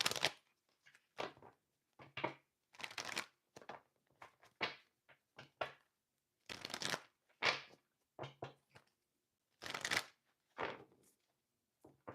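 Tarot cards are shuffled close by in repeated quick riffling bursts, each a brief papery flutter separated by short pauses over several seconds.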